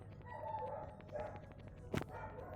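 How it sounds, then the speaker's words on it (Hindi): A neighbour's dog barks from next door, a short, faint yelp or two rising out of a muffled background of indoor game sounds, distant rather than close. "मेरे घर के बगल में एक कुत्ता रहता है जो बहुत भौंकता है"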